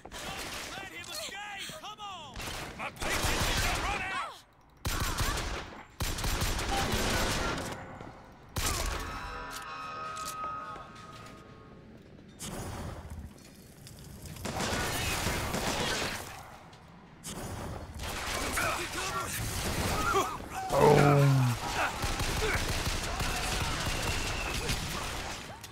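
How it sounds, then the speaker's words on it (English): Missile fire during combat in BioShock Infinite: repeated loud bursts and whooshing blasts scattered through busy game noise, with someone talking over the action. "Who is firing those missile things?"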